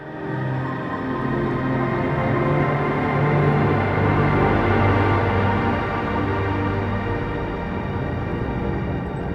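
A dense, evolving ambient synth sequence made in Ableton, with a randomly generated pattern shifting the sustained pads. The wash is loud and continuous throughout.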